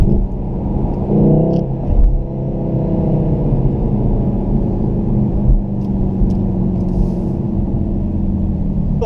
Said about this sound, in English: I am on race mode, so that definitely tops up the exhaust sounds